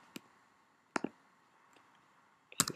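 Computer mouse clicks while working in reporting software, a few sharp isolated clicks spaced across a quiet stretch, including a quick double click near the end, close to the microphone with faint background hum.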